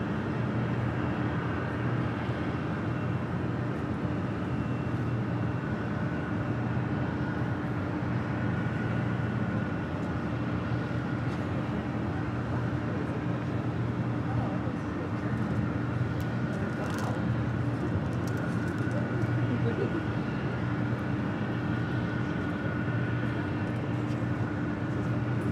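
A China Airlines cargo Boeing 777 freighter arriving at Los Angeles International Airport, heard as a steady, loud broadband engine roar with a low hum that holds throughout, without a clear rise or fade.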